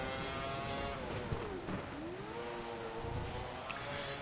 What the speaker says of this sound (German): habt ihr ja gehört, hat das Auto sich so ganz komisch angehört